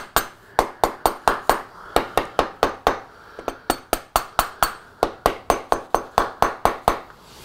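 A hammer taps a Kawasaki Z900 stator cover in a steady run of about two dozen sharp, close metallic knocks, evenly spaced with one brief pause midway and no talking.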